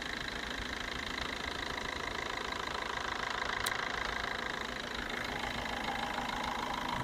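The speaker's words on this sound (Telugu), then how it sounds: "ఇంజన్ బీటింగ్ మాత్రం చాలా బాగుందండి" A Maruti Swift VDI diesel engine idles in a steady, even mid-pitched beat with a faint clatter, continuous and close for the whole stretch.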